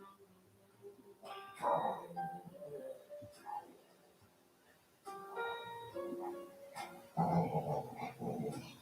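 Roxy the dog barks and whimpers in bursts separated by pauses, loud and close, with a few higher yips mixed in.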